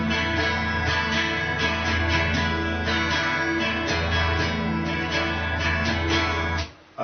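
Acoustic guitar strummed in a down, down, up, up, down, up pattern, continuous steady chords ringing for about seven seconds before stopping abruptly, close and alone with no talking.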